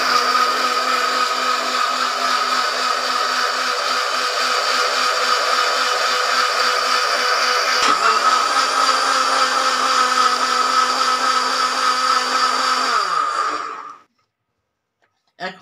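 A lidded blender jar grinds a flattened rice sherbet mixture with coconut, salt and cold water or ice, a loud steady whine running for about fourteen seconds before cutting off abruptly.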